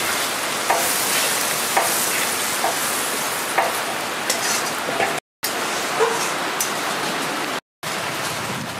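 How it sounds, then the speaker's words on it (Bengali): Yogurt frying with a cooked spice paste for a potol (pointed gourd) curry gives off a dense, steady close sizzle with faint stirring ticks and two brief cutoffs. "আমি উপর থেকে দিয়ে দেবো টক দই, দইটাকেও ভেজে নেব"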